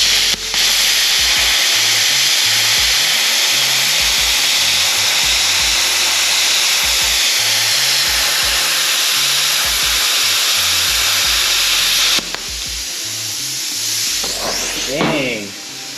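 A BestArc BTC500DP plasma cutter slices through half-inch steel, giving a loud, steady hiss that runs for about twelve seconds and then cuts off. Voices speak faintly underneath, and a short rising tone follows the stop.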